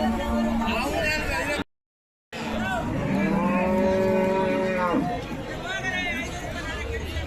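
Cattle moo repeatedly at the weekly cattle market in Gudibande, long drawn-out calls rising over a steady crowd babble of people talking nearby, with one brief cut to silence partway through.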